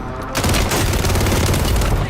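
Dense gunfire in Call of Duty on Rebirth Island, a loud, close fusillade of rapid shots running continuously after a brief quiet start.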